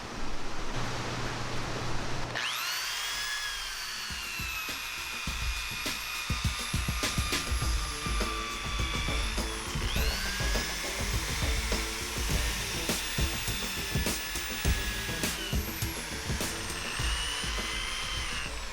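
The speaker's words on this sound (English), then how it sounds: "I'm gonna have to get a different drill." An electric drill runs in a workshop on a John Deere MC crawler drive shaft, its whine starting sharply and holding in long high-pitched bursts with a brief drop midway, over rattling, gritty contact noise.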